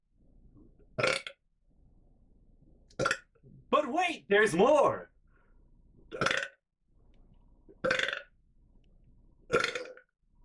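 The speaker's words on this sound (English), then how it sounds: "Here come the burps." Loud close burps come one after another at uneven intervals across ten seconds, with a brief spoken line between them.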